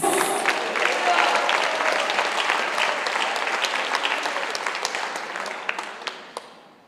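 Church congregation breaking into sustained applause, a dense wash of clapping that gradually thins and fades over about seven seconds, with a few last isolated claps near the end.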